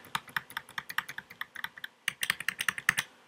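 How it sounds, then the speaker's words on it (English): Up and down arrow keys on a computer keyboard pressed in a quick, steady run of sharp, close clicks, briefly pausing midway before resuming. "You can use your keyboard, the up and down arrow"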